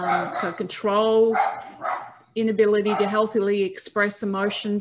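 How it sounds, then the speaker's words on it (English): Dogs bark and yip in the background while a person talks steadily in the foreground, the barking partly buried beneath the speech. "Sorry about the dogs in the background."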